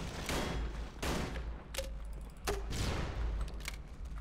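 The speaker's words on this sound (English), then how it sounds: "Use grenade launcher." Grenade launcher fire in the shooter game Hunt Down the Freeman: several loud booming blasts at uneven intervals, each with a sharp crack and rumbling tail, no talk over them.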